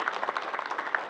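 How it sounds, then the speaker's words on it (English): A short burst of applause from a gaming convention panel audience at PAX South, dense clapping at moderate loudness. "So big applause to"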